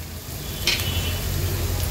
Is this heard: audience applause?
no